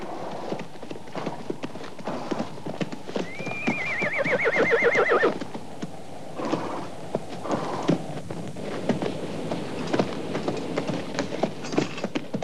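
Horse whinnies loudly with a long descending neigh amid steady clip-clop of hooves, set in a medieval Ivanhoe film scene; hoofbeats continue throughout with scattered background movement.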